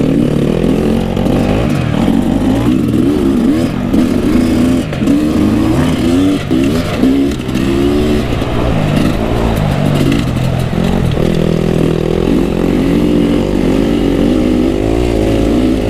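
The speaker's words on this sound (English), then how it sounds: "follow Steve for a while and see how this KX goes" Kawasaki KX250 dirt bike engine revving hard while being ridden, loud and close, the pitch rising and falling through gear changes and throttle blips for the whole stretch.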